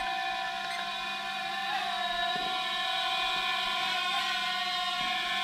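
A small YLR/C foldable mini drone hovers indoors, giving a steady high-pitched whine of spinning propellers with layered tonal hum that holds near and constant throughout, no voices.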